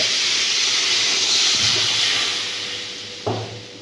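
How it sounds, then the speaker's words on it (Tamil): A loud, steady hiss of sizzling fills the clip as water is poured into a hot pan of roasted chicken pallipalayam, with a couple of brief clanks partway through. "நல்லா ரோஸ்ட் ஆனதுக்கப்புறம் இதுக்கு தேவையான அளவுக்கு தண்ணி விட்டுப்போம்."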